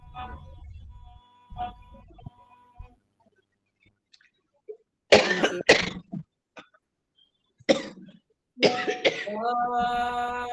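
Several sharp coughs and throat-clearing bursts come close up during a yoga class, between quiet pauses, followed by a brief hum.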